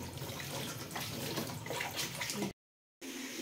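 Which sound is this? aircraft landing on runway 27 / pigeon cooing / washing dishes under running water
washing dishes under running water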